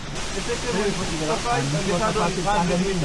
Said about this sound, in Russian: Водопады Сипу.